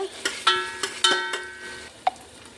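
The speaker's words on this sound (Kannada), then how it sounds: "ಪಕ್ಕದಲ್ಲೇ ನಿಂತ್ಕೊಂಡು ಫ್ರೈ ಮಾಡಬೇಕು" Whole spices crackle and pop in hot oil in a pan while being fried for a classic chicken biryani, with a series of sharp, close ticks and small bursts over a faint sizzle.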